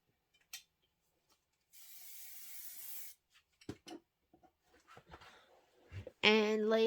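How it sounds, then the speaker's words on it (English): A short, steady hiss of aerosol spray onto quilt batting lasting about a second and a half, preceded and followed by light handling clicks and a brief voice. "Give it a little shot of spray."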